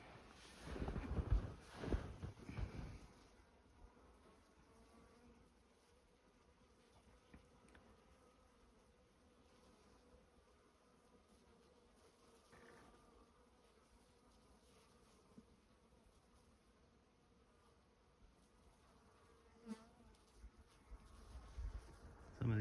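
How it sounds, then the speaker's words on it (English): Honeybees buzzing around a beekeeper near a hive in winter snow, faint wavering drones as individual bees pass close to the ear, with soft wind and rustling. "Some of these bees are buzzing my head and hit me in the ear."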